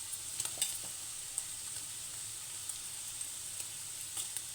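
Paneer pieces frying in a pan with chili powder, turmeric and spices, stirred with a light, continuous sizzle broken by sharp utensil clicks and scrapes, no voices.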